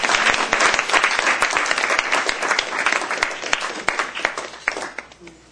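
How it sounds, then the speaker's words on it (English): Meeting audience applauding steadily for about five seconds, dense overlapping claps close and loud, thinning slightly toward the end. "Please give them all a big round of applause."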